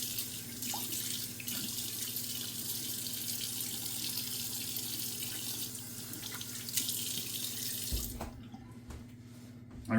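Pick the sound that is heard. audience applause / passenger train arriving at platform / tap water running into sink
tap water running into sink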